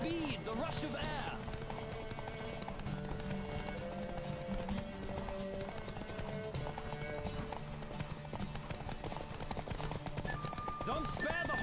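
A racing horse in a Witcher video game gallops hard, hoofbeats clattering continuously and close beneath music, with short whinnies near the beginning and end.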